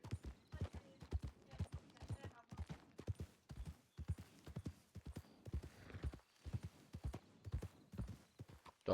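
Horse hooves clip-clop in a steady, close rhythm through a Western setting, with occasional short gaps, while voices talk quietly over them.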